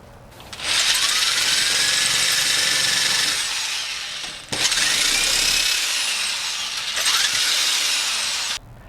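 A power drill whines loudly in three long bursts, spinning up and winding down between each, close by with no talking.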